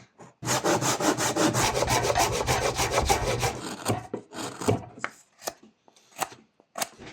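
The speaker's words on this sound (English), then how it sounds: "Now at this point, the handsaw is really going to make a difference." A handsaw rasps rapidly back and forth through wood while shaping a whittled kitten, a fast even run of close strokes for several seconds, then slowing into a few separate scrapes and taps.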